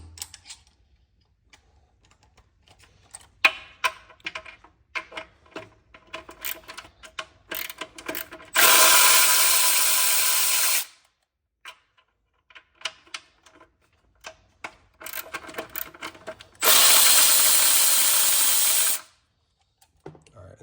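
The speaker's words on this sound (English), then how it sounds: "break these loose, run them out, get socket extensions for these other ones" A socket wrench breaks loose and runs out intake manifold bolts on a 6.7 Powerstroke, giving irregular close ratchet clicks and taps, then two long steady bursts of spinning hiss, with no talk.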